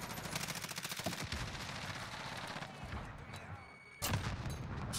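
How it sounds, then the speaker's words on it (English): Gunfire and a grenade blast in Call of Duty: Modern Warfare, with dense rapid shots through the first half, a quieter lull, then a sudden loud burst near the end. "What a grenade that was, Talon."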